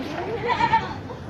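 A young male goat at a livestock market gives a single short, nasal bleat up close, amid market background noise.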